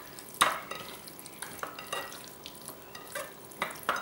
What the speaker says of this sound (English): Add a teaspoon of cornstarch. And just mix it together